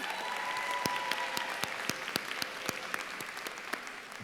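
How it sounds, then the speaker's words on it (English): An audience applauds at a graduation ceremony. The clapping is sustained, with sharp individual claps standing out from the dense crowd and tapering slightly toward the end. "So let's give our family a round of applause again, please."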